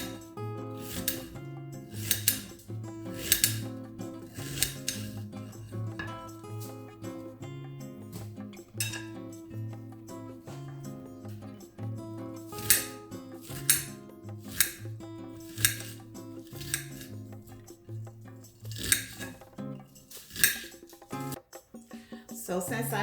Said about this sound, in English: So now it's time to chop your onion.